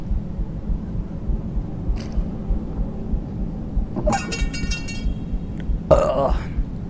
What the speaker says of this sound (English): My bad for burping, guys.